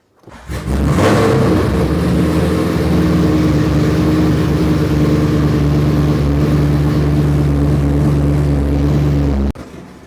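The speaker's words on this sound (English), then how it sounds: "I don't know how good it is to run the car jacked up like that." A 500-horsepower E85-fueled Corvette engine runs while the car sits jacked up, a loud, steady, close rumble holding level for about nine seconds before cutting off abruptly near the end, with no talking.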